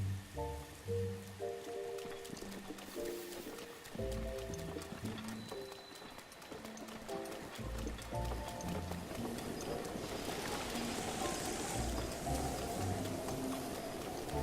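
Rain falls in Breath of the Wild, a steady patter running behind game music and rhythmic hoof-like clopping, growing denser and louder in the later seconds.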